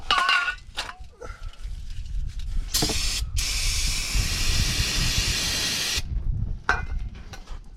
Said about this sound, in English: Clean her off with some brake clean.